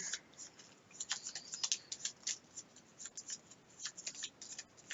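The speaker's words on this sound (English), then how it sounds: "Can you shuffle the guard deck?" Game cards from a Gloomhaven deck are shuffled close up, a quiet run of crisp riffling and tapping bursts in an otherwise hushed room.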